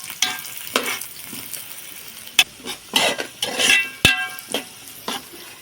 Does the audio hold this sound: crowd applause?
no